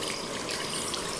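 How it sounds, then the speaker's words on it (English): Hot water pours steadily into a laundry basin in a 1950s-style washing setup, a close, continuous splashing rush that holds at an even level with no talking. "The hot water follows, a steady pour."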